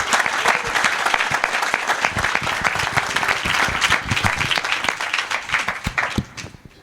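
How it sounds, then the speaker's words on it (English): Sustained audience applause for a group of Sai Spiritual Centre children at a Sathya Sai Baba center Christmas gathering in Flushing, New York, dense and steady for several seconds before thinning out and fading at the end. "how about one more round of applause for these wonderful SSC children"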